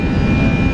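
A loud, steady roar of jet engines as an airplane lands in Italy fills the clip, a constant low rumble with no break.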